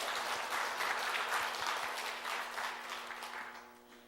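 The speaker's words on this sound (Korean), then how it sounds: "우리 하나님께 다시 한번 영광의 박수를 올려드립시다" A church congregation applauds together after a hymn, steady dense clapping filling the room, then gradually tapering off toward the end.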